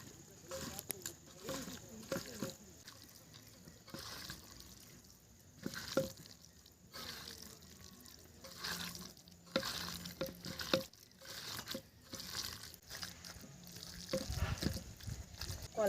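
Fish being mixed by hand with spice paste and a splash of water, soft wet squelching and dripping sounds recurring close up, with a person talking over parts of it.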